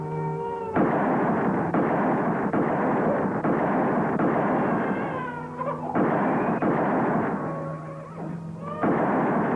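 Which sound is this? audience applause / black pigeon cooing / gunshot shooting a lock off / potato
gunshot shooting a lock off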